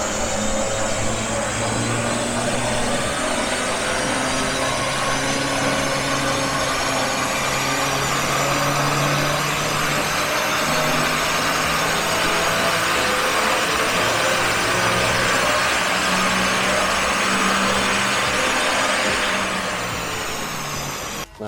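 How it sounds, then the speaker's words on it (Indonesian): A Nissan March Nismo with a replaced rear muffler runs with a smooth, steady engine and exhaust drone. The note rises slightly and holds for about twenty seconds before cutting off abruptly. "jadi tadi knalpotnya juga suaranya masih halus banget karena dia cuma ganti bagian rear muffler"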